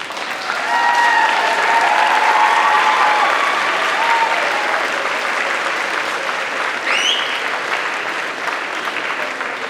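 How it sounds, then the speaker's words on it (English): Graduates at a University of Manchester December graduation ceremony applaud their families and friends, a broad, steady round of clapping that swells within the first second and holds for nearly ten seconds, thinning slightly at the end. "give them a round of applause for their support"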